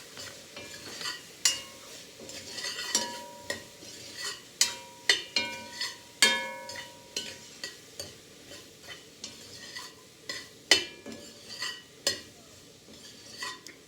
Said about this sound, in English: we're ready to give everything a stir now. Things are starting to cook down a little bit